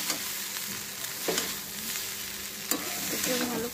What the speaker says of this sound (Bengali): এটাকে নেড়ে নেবো খুব ভালো করে